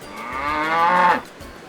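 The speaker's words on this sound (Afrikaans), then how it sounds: "'n koei maak moo" A cow gives a single long, loud, close moo that rises and then breaks off, with a farm-like background hum before and after.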